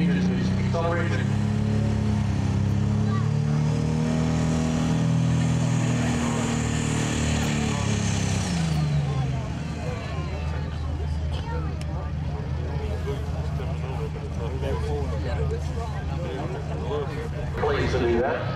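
A pro stock tractor engine roars loudly at an NTPA tractor pull in Wilmington, Ohio, its pitch rising and falling as the throttle changes, with a public-address announcer talking over it throughout.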